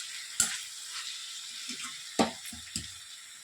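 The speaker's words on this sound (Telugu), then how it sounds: "బాగా రోస్ట్ అయ్యేంత వరకు బాగా వేయించాలండి" Ivy gourd pieces fry slowly in a pan over a low flame, a faint soft sizzle with a few sharp scrapes and clatters of stirring scattered through.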